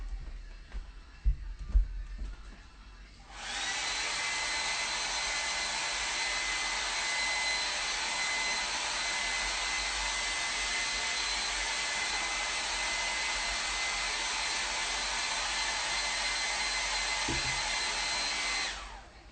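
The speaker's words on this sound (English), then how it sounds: "I'm gonna go ahead, I'm gonna hit up that hairdryer" A hair dryer switches on after a few seconds of quiet handling noises, blowing loud and steady at close range, then cuts off near the end.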